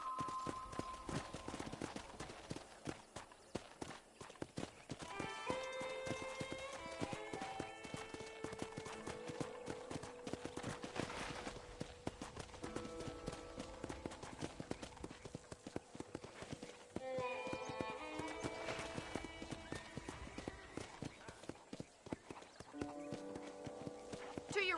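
Horse hooves clip-clop steadily in a video game ranch setting, with a couple of neighs or whinnies rising over the rhythmic footfalls and faint background sound throughout.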